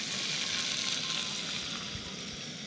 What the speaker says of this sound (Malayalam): അടുത്തത് ചില്ലി ഫ്ലേക്സ് ആണ്. ഒരു 2 മിനിറ്റ് ഒന്ന് മൂപ്പിച്ചെടുക്കണം.